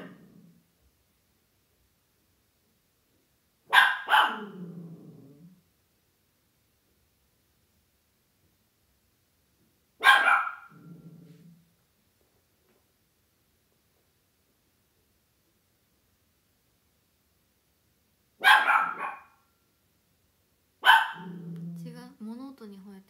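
A dog barks at household noises, four separate bursts spread over about twenty seconds with long quiet gaps, each a short loud bark cluster fading into low growly tails, fairly close indoors with no talking.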